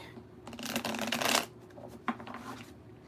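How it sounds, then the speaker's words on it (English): A brisk, close shuffle lasts about a second, followed by a shorter second riffle, fairly quiet in a still room with no talking. "I want to give this a good shuffle"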